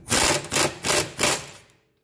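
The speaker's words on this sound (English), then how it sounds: "Now, with your Ugga Dugga gun, go ahead and shoot this guy off." Impact gun loosening the rear lower control arm bolt on a 2013 Nissan Altima, four quick loud hammering bursts close by, then falling silent, no talk.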